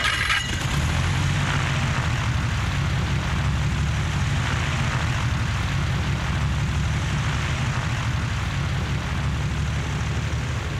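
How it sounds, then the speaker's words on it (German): A propeller aircraft engine roars close and loud after a brief rising start, then holds a steady, throbbing drone with no voices. "Ein Fluglotse dreht den Propeller an."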